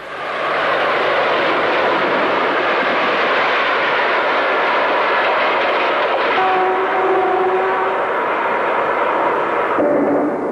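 A 1960s British Rail EM2 electric locomotive hauling a passenger train near Thurgerland, a loud continuous rumble and rush passing close by, with a faint whistle-like tone midway.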